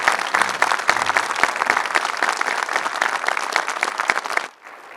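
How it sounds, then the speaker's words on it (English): An audience applauds a U.S. Army lieutenant colonel at an enlistment oath ceremony at Space Center Houston, producing dense, steady clapping from many hands for about four and a half seconds before it quickly dies away. "let's give Lieutenant Colonel Rubio a round of applause"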